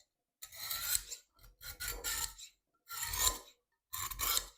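Four rough rasping drags of a knife blade pulled through the coarse slot of a manual knife sharpener, each stroke about half a second long and separated by short pauses, close and fairly loud with no talking.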